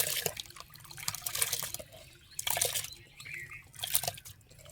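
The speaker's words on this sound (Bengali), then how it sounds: "জল গরম হয়েছে। এবার দিয়ে দেব চাল ডাল।" Washed rice and lentils pour into a pot of hot water for vegetarian khichuri, giving faint splashes and liquid swishes in a few soft bursts.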